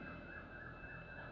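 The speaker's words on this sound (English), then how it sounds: "Now the factory alarm goes off." A factory alarm goes off in the distance as a steady, droning electronic tone with a wavering upper pitch, sounding faint and continuous over low background rumble, with no one speaking.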